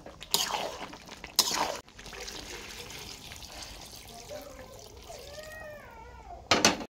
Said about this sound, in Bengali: এবার আমি গরম জল দিয়ে দেবো পরিমাণ মতো।